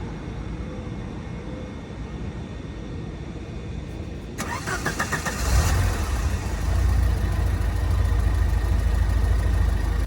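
The engine of a 1991 Alfa Romeo Spider Veloce, already warm, cranks briefly, catches, and settles into a steady, rumbling idle that continues to the end.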